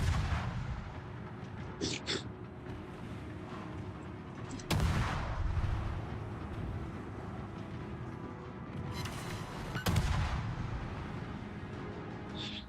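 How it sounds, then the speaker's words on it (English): Warship main guns firing in World of Warships, with two heavy booming salvos several seconds apart over a continuous low rumble of engine and sea noise, and no voices. "let's see how good these guns reload"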